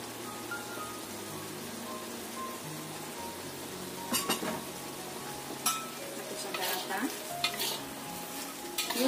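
Shrimp in a reduced, thickened margarine garlic sauce is stirred in a pan as spring onions go in, with a soft sizzle under repeated scraping strokes and clinks of the utensil against the pan, close and fairly quiet.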